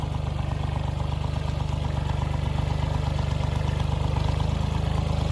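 A tractor engine idles close by with a loud, even, low throb and a faint mechanical clatter, running steadily on its own without any talk.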